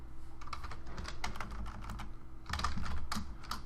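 Close, steady typing on a computer keyboard while coding a web page, with rapid bursts of keystrokes, a brief pause, then a louder flurry of clicks near the end.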